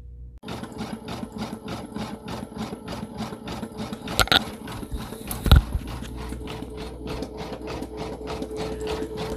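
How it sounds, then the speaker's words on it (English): Single-needle embroidery machine stitching a nap tack knock-down stitch: a fast, even train of mechanical pulses running steadily throughout, close and fairly loud, with a couple of brief heavier knocks partway through and no talking. "Okay, it is stitching along."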